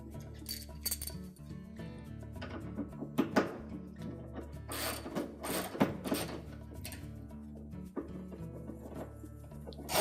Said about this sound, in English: And once you have the bolt started by hand, we can use the ratchet on it.